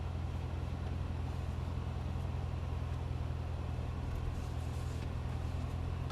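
A 2015 Chevrolet Corvette C7 Z06 with 650 horsepower pulls away on the Las Vegas Motor Speedway racetrack, heard as a steady, muffled low engine rumble throughout.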